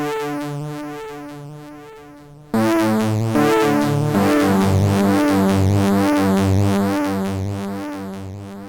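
Arturia MicroFreak synth with an LFO sweeping the saw mode parameter back and forth, heard as a loud sustained chord whose bright harmonics swell and recede in a steady cyclic rhythm, playing alone.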